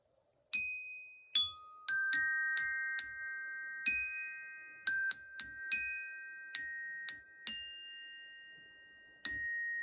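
A bell lyre plays a slow melody of bright, ringing metallic notes, each struck cleanly and left to decay, heard alone in a quiet space.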